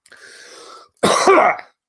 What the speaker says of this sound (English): I actually coughed that time.